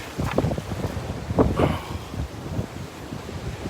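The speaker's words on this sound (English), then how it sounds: "This wind is chilly." Chilly wind blows outdoors near a creek, gusting and buffeting the microphone with a rough, broadband rush that swells and fades, with no talk.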